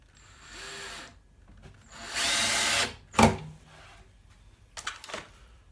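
A power drill drives a screw into a wooden toy box in a few separate whirring bursts, with one long run in the middle and a sharp knock after it, loud and close with quiet gaps.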